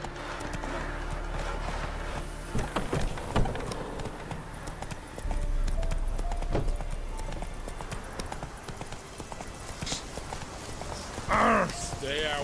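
Roach, the horse in Witcher 3, clip-clops along at a steady walking pace, hooves close and distinct over a continuous bed of game ambience, with a brief voice late on.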